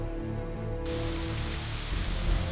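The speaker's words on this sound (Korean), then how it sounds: "갑자기 빗방울이 쏟아지기 시작합니다." Heavy rain pours in a sudden typhoon shower at sea around a Sri Lankan fishing island, a dense hiss of drops that swells abruptly partway through and stays loud to the end.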